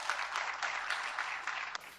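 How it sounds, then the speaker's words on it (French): A brief burst of audience applause at an event marking the end of an Ebola outbreak, a dense clatter of many hands rising and falling in short surges, fairly close and without speech. "Et nous pouvons nous applaudir pour cela."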